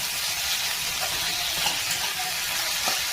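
Drumstick leaves fry in a pan on an induction cooker, giving a steady, bright, hissing sizzle throughout with small pops and no talking.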